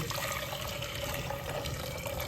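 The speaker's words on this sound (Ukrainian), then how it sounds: "Пшону миємо декілька разів, щоб було світле, щоб світла вода стікала." Millet grains rinsed under a running tap, a steady broadband rush of water filling and splashing in a sink, continuous and close for the whole stretch with no voices.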